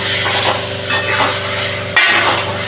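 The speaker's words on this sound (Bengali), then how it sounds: "এই পর্যায়ে আমি এখানে এই পটলগুলোকে দিয়ে দেবো" Pointed gourds (potol) drop into a pan of cooked spice paste for korma, giving a loud, steady sizzle of oil with soft shifting clatter and one sharper knock near the end, close by.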